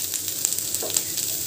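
Food frying in a pan during home cooking, a steady soft sizzle with a few brief crackles, close and alone with no talk.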